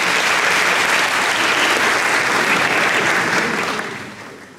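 An audience applauds students receiving awards for composition competitions at a school ceremony in Edirne, with loud, dense, continuous clapping that fades away over the last second.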